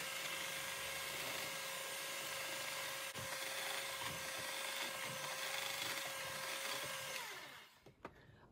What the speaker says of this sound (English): I really like to use my mixer because it's just as fast to wash these as it is a whisk